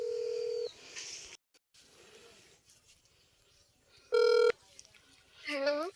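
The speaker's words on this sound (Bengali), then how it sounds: "আমি ফোন দিচ্ছি ওনাকে।" A phone call is placed with a few short, bright keypad beeps separated by quiet gaps and faint background sounds, all close to the phone.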